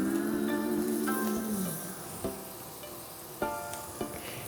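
Small petite filet mignon steaks hit a hot pan and sizzle steadily, a bright crackling hiss with a few sharp pops and clatters near the end.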